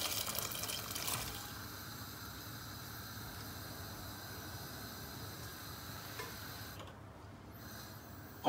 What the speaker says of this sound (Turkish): Haşlamış olduğumuz kuru fasulyeyi şöyle görün. Kendi suyuyla içine dökeceğiz.